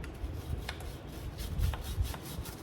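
A towel scrubs a motorcycle wheel clean of paint overspray. The rasping rubbing strokes are close and steady, with a few sharper swipes.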